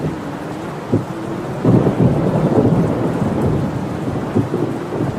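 Heavy rain pouring steadily around a stalled car, with deep thunder rumbling and swelling midway through, loud and continuous with no voices.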